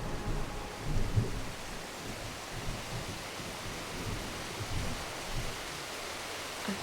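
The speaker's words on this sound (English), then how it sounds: "There's something about the power from lightning and thunder and strong winds and heavy rain" A thunderstorm rumbles low and distant beneath a steady hiss of heavy rain, soft and even throughout with a few deeper swells and no voices.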